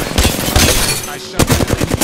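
Rapid automatic gunfire in the battle royale game Apex Legends, a loud close stream of shots with a brief pause before another burst.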